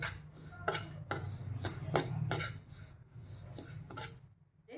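A spoon scrapes and rattles white sesame seeds, unpolished, being dry-roasted in a pan, producing a string of quiet rhythmic scraping strokes over a low steady hum.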